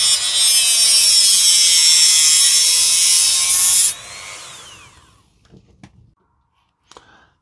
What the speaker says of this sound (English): we're going to cut this off here with the Dremel